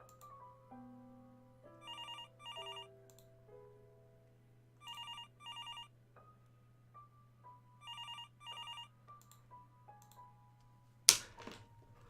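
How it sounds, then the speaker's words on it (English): Telephone ringing in repeated double bursts, about three pairs spaced a few seconds apart, over steady piano-like background music, ending with a sharp loud clatter. "But the phone keeps ringing."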